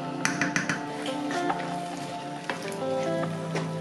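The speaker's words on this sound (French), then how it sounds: "Et maintenant je rajoute les tomates concassées" Crushed tomatoes and tomato paste go into a hot pan, with a few sharp taps of a spoon or can, then a moderate steady sizzle with light stirring.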